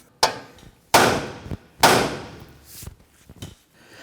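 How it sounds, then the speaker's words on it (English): A hammer strikes the steering knuckle of a 2017-2020 Hyundai Elantra to free the outer tie rod end. There are three loud, sharp metallic blows, each ringing briefly, followed by a couple of lighter knocks. "Now I'm going to go ahead and strike the knuckle here."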